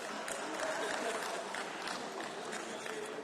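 Nationalist members applaud in the European Parliament chamber, a dense, steady wash of clapping from many hands that holds at an even level throughout.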